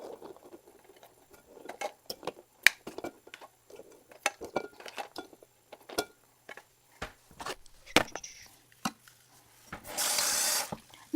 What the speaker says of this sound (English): and run them in running water.